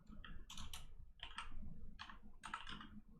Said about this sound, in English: That's the reason why I'm typing so slow.